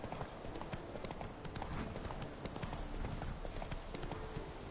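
Hooves of Roach, a horse in The Witcher 3, clip-clop in a steady trotting rhythm, close and fairly loud over a busy bed of game ambience and music.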